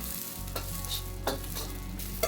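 Onions and spring onions stir-fried in a wok for a Hong Kong-style dish, sizzling over a steady low burner roar, with a few distinct scraping tosses of the spatula spaced through the moment.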